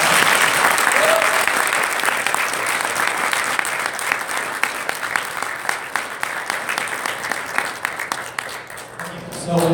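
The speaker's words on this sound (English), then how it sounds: "let's give a huge round of applause" Sustained audience applause at a first meeting, dense clapping that runs steadily, then thins into scattered individual claps near the end.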